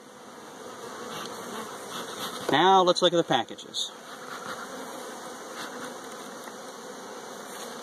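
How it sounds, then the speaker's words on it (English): Honey bees swarm around a backyard beehive, a continuous close buzzing hum from many insects, briefly joined by a person speaking over it before the droning carries on alone. "look at those bees. There's just bees everywhere."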